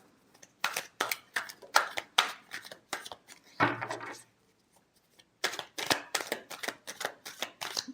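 Tarot cards are shuffled by hand in rapid bursts of papery riffling flutters, a short pause in the middle, then more brisk shuffling, close and crisp.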